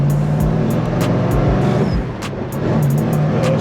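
A 1967 Chevelle SS engine revs hard in low gear, a loud, continuous low rumble that swells and dips with the throttle, heard from close up with no talking over it.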